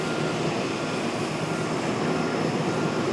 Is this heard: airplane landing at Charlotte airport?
yes